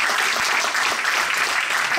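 Steady applause from an audience at the closing of a hackathon final, a dense continuous patter of clapping throughout with faint voices underneath.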